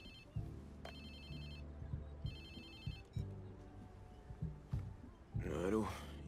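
A phone rings in the video game Watch Dogs 2, with repeated electronic ring bursts over a low game background hum and a noisy rush at the end.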